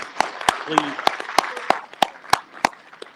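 Audience applause at a North Carolina A&T men's basketball press conference, sparse and fairly close, with about ten distinct sharp claps at a steady rhythm standing out from a light patter of other hands, with faint talk briefly under it.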